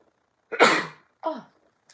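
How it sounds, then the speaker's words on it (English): A single loud, close sneeze bursts out alone, followed by a shorter, softer second exhalation or sniff afterward. "I feel like I'm going to sneeze."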